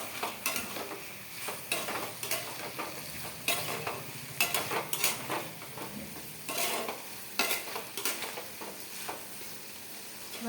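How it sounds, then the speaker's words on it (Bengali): A spoon scrapes and stirs through posto curry with turmeric and mustard in a frying pan. Repeated, uneven strokes clatter over a soft sizzle, close and clear, with no talking. "এবার আমি নেড়ে নেবো"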